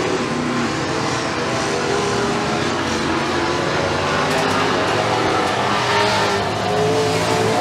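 Street stock race cars roar around the dirt oval at McKean County Raceway in a late-laps feature, a loud, continuous wash of engine noise with rising and falling revs as the pack passes close by.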